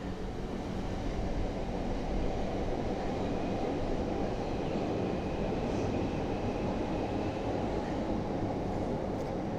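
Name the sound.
train passing outside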